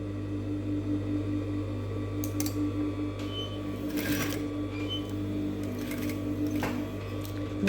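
A sewing machine runs steadily up close while stitching a collar seam, its motor humming in a continuous drone with faint clicks and rattles of the mechanism.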